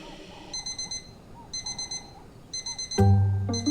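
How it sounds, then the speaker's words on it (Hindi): An alarm clock beeps in repeated bursts of short electronic tones, loud and close, with a brief louder jangle near the end. "श्रेया जैसे ही अलार्म की आवाज से उठी"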